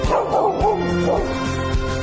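A dog gives short yips, barks and whimpering whines, close and fairly loud, over a steady low background hum.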